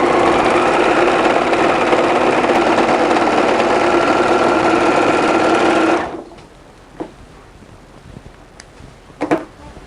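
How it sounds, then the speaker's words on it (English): Serger overlocking the seams of a quilted velvet Christmas tree skirt, a loud, close, continuous high-speed whir lasting about six seconds before cutting off, followed by a few faint handling clicks. "So go ahead and serge each and every one of"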